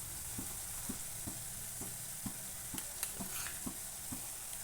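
Spices sizzle and fry in a pan on a low flame for a home-style potato gravy, with a steady hiss and regular scraping strokes of the stirring spoon repeating about every half second.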